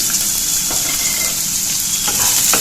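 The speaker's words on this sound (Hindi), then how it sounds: "तेल गर्म हो गया, इसमें प्याज डालेंगे" Onion goes into hot oil in a pan for baingan bharta, giving a loud, steady close sizzle with stirring scrapes throughout and no voices.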